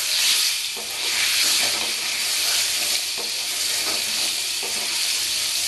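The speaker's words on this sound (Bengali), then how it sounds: "আলুগুলো আমি খুব সুন্দর করে ভেজে নেবো।" Potatoes fry in hot oil in a pan, a loud continuous sizzle and hiss with faint periodic scraping as they are stirred, no voices.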